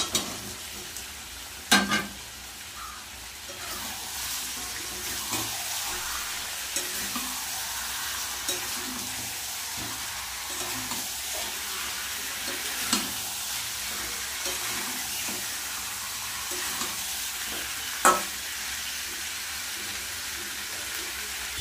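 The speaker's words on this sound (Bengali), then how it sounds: "এবার দিয়ে দেবো ভেজে রাখা আলু।" Fried potatoes tossed into a pan of chicken for a Bengali chicken kosha, stirred and frying with a steady sizzle and hiss, occasional sharp scrapes of the spoon standing out, alone without talk.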